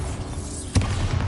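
A Bombarda blasting spell goes off in Hogwarts Legacy as a single sudden blast with a low thud, rising over a steady rumbling game background.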